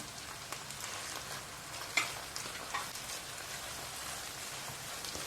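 Faint, steady sizzle of chopped green peppers frying in a pan, soft crackling throughout with a couple of small clicks.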